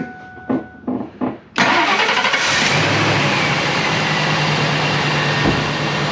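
Old Ford F-250 pickup engine cranking in a few short grinding bursts, then catching with a loud roar and settling into a steady, close, even idle.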